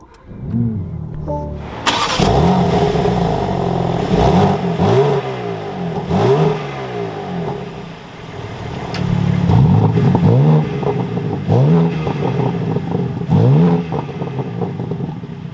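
A 2025 BMW M4 Competition engine cranks and catches, then revs repeatedly in sharp bursts, each climb followed by a drop, loud and close.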